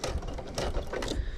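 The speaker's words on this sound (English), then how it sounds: "so now I'm going to do that second stitch around here." Sewing machine stitching a quilt block, a fast steady mechanical whir with rapid needle chatter up close, running continuously without any talking.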